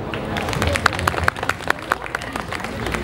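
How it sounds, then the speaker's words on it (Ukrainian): An audience at a Ukrainian embroidery festival event applauds, with dense, close clapping that stays steady for a few seconds before easing slightly. "Ваші оплески."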